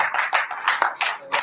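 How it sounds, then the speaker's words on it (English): An audience claps at a master class event, with bursts of applause rising and falling in quick uneven waves, close and fairly loud. "Please, a round of applause for the one and only Frederick Leonard."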